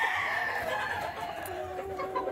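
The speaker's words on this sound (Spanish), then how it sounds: "Aquí tenemos pollos de esta temporada." Young gamecock roosters about six to seven months old cluck and crow inside a coop, several birds calling over one another with a drawn-out crow rising above steady clucking at close range.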